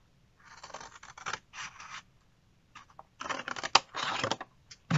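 Scissors snip through paper squares for a homemade advent calendar, a series of crisp close cuts in short bursts separated by pauses, with no one speaking.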